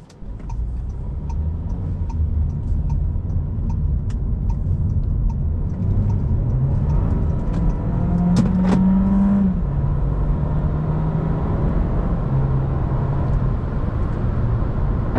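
A 2023 Volkswagen Jetta compact car accelerating on a straight road, a steady engine drone rising in pitch as it pulls through the gears, with faint ticking underneath, heard from inside the cabin.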